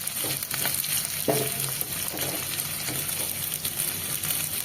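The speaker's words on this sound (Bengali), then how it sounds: "পেঁয়াজটা দিয়ে একটু ভালো করে নেড়ে নেব" Onion is stirred and fried in a pan for chilli paneer: a continuous close sizzle with a few scraping strokes of a spatula against the pan.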